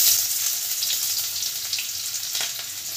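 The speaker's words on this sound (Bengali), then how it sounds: "কড়াইয়ে তেল দিয়ে দেবো। গরম হয়ে গেছে, মা ফোড়নটা দিয়ে দিল।" Whole spices such as bay leaf, cardamom, dried chilli and cinnamon hit hot oil in a kadai, a bright, continuous close sizzle with faint crackles throughout, no voices.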